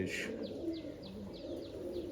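Pigeons of various breeds in a keeper's loft coo in a low, faint, steady murmur, with a brief sharp bird note at the start and a run of soft repeated chirps over it.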